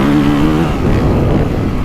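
2025 Honda CRF450R motocross bike engine, a loud close-up rev with a rough, buzzing roar that holds steady and then wavers, with no voices.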